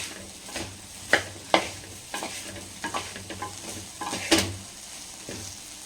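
Vegetable fried rice made with basmati rice is stir-fried on a high flame. A spatula scrapes and knocks against the pan in irregular strokes over a low sizzle, close up.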